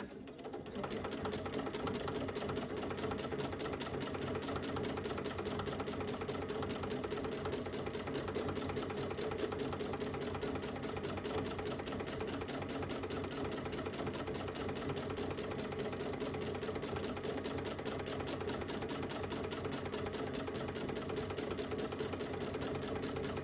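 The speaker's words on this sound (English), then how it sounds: "I'm going to do the reinforced stitch again, just to create a knot at the beginning of my stitches" A sewing machine runs continuously at a steady, even pace, doing reinforced stitches on a fabric sleeve for a Kindle, with a fast mechanical whirring and needle chatter for over twenty seconds without pauses or talk.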